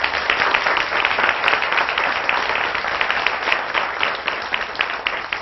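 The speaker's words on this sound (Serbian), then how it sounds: "Molim vas jedan aplauz." Studio audience applauding ballerinas from the Amadeus ballet studio of Požarevac on a TV show, a steady mass of hand claps at a moderate level, continuous throughout with small swells and no talk over it.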